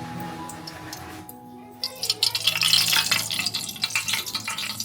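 Oil heats in a hot cooking pot for Konkan Shimga festival chicken and mutton vade. A quiet stretch gives way to close, irregular crackling and popping sizzle that grows and continues.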